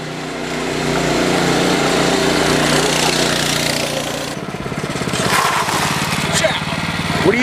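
An old go-kart's small engine runs at a steady, buzzing idle-to-mid rev, close and fairly loud, its pitch wavering slightly as the throttle shifts.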